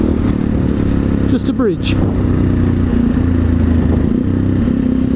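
An SWM SD 650 X motorcycle rides on a light off-road dirt track, its engine droning steadily and close throughout, with a brief clatter in the middle and someone talking over it.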